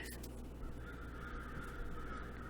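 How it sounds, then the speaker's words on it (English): Crows caw over a steady low background hum, giving a drawn-out, harsh call at moderate distance that holds for most of the moment. "these crows are giving me a little anxiety"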